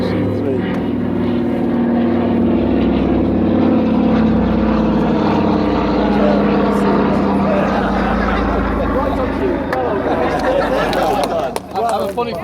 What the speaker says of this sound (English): That's the DC-3.